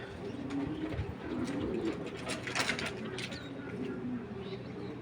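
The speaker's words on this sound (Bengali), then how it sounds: "এটা হলো একবারে অরিজিনাল মাক্সি কবুতর দেখছেন" Maxi pigeons coo softly in a low, repeated murmur, with faint wing flutters and background rustling throughout.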